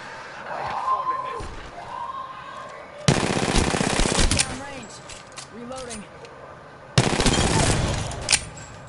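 Bursts of rapid automatic gunfire crack out in Apex Legends, two long loud volleys with scattered shots between, while players talk over the action.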